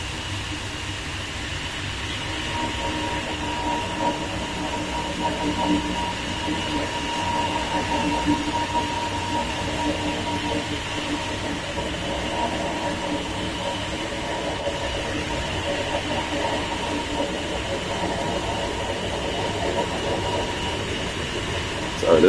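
A TGV high-speed train runs at 320 km/h on the LGV Méditerranée, heard from inside as a constant loud broadband rush and rumble with steady tonal hums, unbroken throughout.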